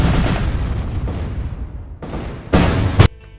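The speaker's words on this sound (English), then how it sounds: "for nukes like this, they would be splitting atoms to make big explosion" A nuclear bomb blast in the Roblox game Build a Boat for Treasure: a heavy booming explosion rumbles and decays, then a second loud burst of roaring noise swells and cuts off sharply.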